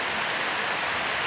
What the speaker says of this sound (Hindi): और मतलब बारिश भी स्टार्ट हो चुकी है,